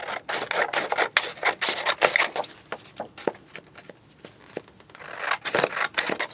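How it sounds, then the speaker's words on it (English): Scissors cut coloured paper into strips for a woven paper banig. The close, crisp snips come in quick bursts, then pause briefly before another run of cutting. "we'll again cut the strips to make strips"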